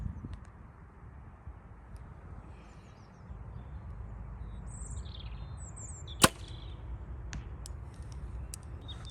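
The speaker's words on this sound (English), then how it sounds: "We'll measure the sound as the arrow just pass over." An arrow fitted with three AAE Airazr fletched vanes, shot at 80 yards, passes overhead with a single sharp, brief whoosh-crack over faint outdoor wind, birds chirping in the distance.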